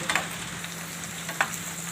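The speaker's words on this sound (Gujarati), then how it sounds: "હવે આપણો ભીંડો એકદમ સરસ તેલમાં સડી ગયો છે, ફ્રાય થઈ ગયો." Okra sizzles in hot oil in a pan, a quiet steady frying hiss with a couple of brief crackling pops and no voices.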